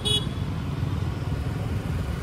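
Busy road traffic in Pune during the Ganpati festival, heard from a moving motorcycle: a constant close rumble of engines with a short horn toot at the very start.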